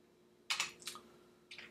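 Typing on a computer keyboard, a few quick, close keystroke clicks in two short bursts with quiet pauses around them, faint overall.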